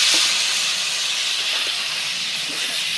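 Steady, strong hiss and sizzle as water is poured onto dry spices (coriander, cumin, salt, turmeric) frying in a pan for a chana dal curry with pumpkin, pointed gourd and potato, close and continuous without talk.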